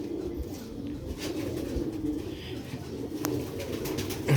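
Sialkoti pigeons coo close by in low, throaty murmurs that keep rolling on, with a few soft rustles and no talking.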